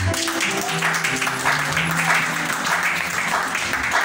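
A church congregation applauds God with sustained, dense clapping that fills the whole span at a steady level, with some voices mixed faintly underneath.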